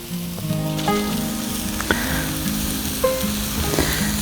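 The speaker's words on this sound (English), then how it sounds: "Next step is to put some of that bread down, and this is butter side down." Butter-side-down bread sizzling on a Blackstone griddle for a pulled pork grilled cheese with cheddar: a steady close, loud sizzle with a few sharp clicks of a spatula on the flat top, no talking.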